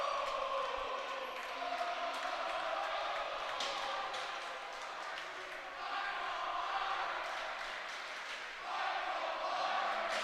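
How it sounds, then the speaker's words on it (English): A crowd at a high school varsity hockey game between St Anthony's and Northport erupts after a power-play goal, sustained loud roaring and chanting filling the rink for the full stretch, swelling again near the end. "the crowd erupts and serenades number 5"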